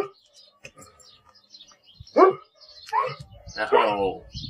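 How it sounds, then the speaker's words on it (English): A dog lets out a few sharp barks, with someone speaking in between and some faint chirping in the background. "No, stop barking at everyone."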